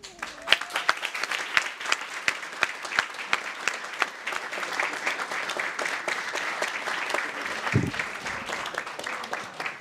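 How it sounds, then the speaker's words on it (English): Applause at a Kent City Council meeting honoring members, a steady, sustained round of clapping from a room audience with sharp individual claps throughout, fading briefly near the end. "So these folks all deserve a huge round of applause."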